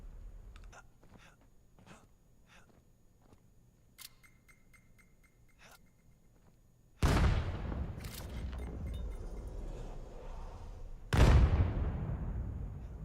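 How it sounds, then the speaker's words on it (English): A grenade goes off in the VR shooter VAIL during a competitive match, a sudden loud blast that rolls on, followed by a second heavy boom a few seconds later, after scattered faint clicks and taps. "Nice nade from Peak."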